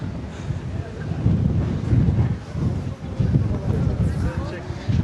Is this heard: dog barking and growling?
no